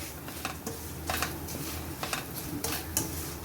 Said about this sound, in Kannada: ಈಗ ಎಲ್ಲ ಮಿಕ್ಸ್ ಮಾಡ್ತೀನಿ